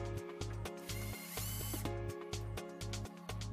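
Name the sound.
screwing a Beluga three-point lock into place through faceplate holes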